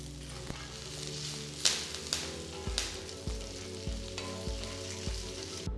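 Dried red chillies and curry leaves sizzling in hot oil, a steady close frying hiss with soft clicks and a few pops as ingredients land, no voices.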